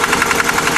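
A Hatz E79 diesel engine, a high-speed single rated at 3000 RPM, runs close and loud, its rapid, even knocking pulses forming a dense mechanical chatter throughout.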